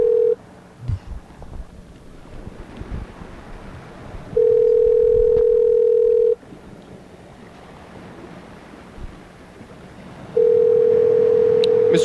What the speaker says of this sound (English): Mr. Ginsu, we're listening to the phone ring.